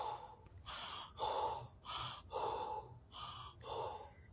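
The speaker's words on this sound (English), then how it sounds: "Heavy breathing." Heavy, rhythmic breathing during a kettlebell workout, with about seven loud gasping breaths in a steady cycle heard close up and without speech.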